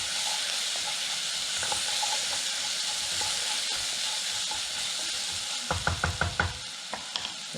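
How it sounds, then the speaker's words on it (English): Garlic sautéing in a hot pan gives a soft, continuous sizzle and hiss, with a quick run of sharp clicks and taps near the end as the pan is stirred. "we're going to let that cook and saute for about 30 seconds or so"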